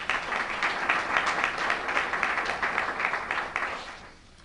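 An audience at a corporate breakfast applauds with dense, steady clapping that holds fairly loud for a few seconds, then fades quickly as the room quiets.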